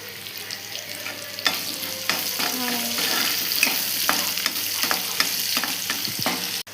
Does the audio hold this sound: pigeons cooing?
no